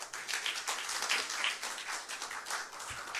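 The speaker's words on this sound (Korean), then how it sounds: "큰 박수로 맞이해 주십시오." A forum audience applauds to welcome the next speaker, a city council vice-chair, with a steady, fairly quiet patter of clapping throughout and no voices.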